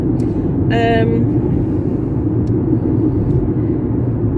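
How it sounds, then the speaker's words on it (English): A yellow and blue bin lorry rumbles past outside a window, its low engine drone steady throughout, with a brief whine near the start. "You'll see a nice yellow and blue bin lorry out my window"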